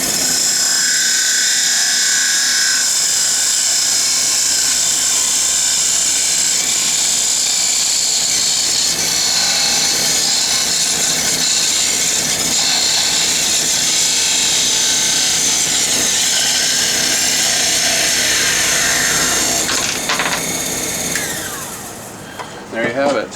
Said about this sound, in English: Use the hacksaw. Turn the speed back up.